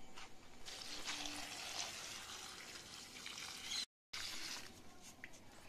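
Water is poured onto garden plants, a steady faint splashing and trickling with a brief break before the flow resumes.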